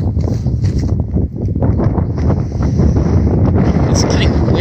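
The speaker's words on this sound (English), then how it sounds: "It's getting windy." Strong wind buffets the microphone in loud low rumbling gusts outdoors in fog, with a voice partly audible beneath the roar.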